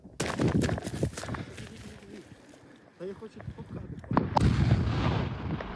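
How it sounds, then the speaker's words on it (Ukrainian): A small ammunition explosion, set off by a lit fuse, rings out as a sharp blast, then rumbling noise and scattering stones follow, with people's voices heard faintly in between. "Цей вибух зовсім невеликий."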